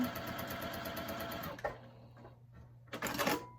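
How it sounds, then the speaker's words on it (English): A sewing machine chain-pieces half square triangle quilt scraps. It gives a fast, even mechanical whir for about a second and a half, then stops, leaving quiet handling sounds before a short second burst of stitching near the end. "I just kind of want to sew these together"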